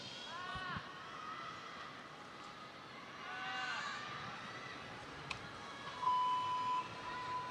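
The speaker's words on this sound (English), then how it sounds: "You can hear the beep in the background." A time-limit warning beep sounds in a gymnastics arena during a world championship balance beam final, a thin steady tone near the end, heard faintly under crowd murmur and commentary.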